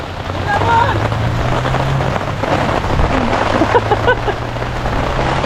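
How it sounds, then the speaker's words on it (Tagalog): Steady rain hisses across the whole scene with a windy rumble, while a low drone and some faint background voices sit underneath. "So guys, naulan na. And mukhang malakas."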